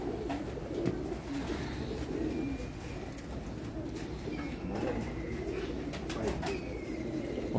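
Pigeons cooing softly in low, repeated throaty calls amid a busy outdoor background with occasional chirps and rustles.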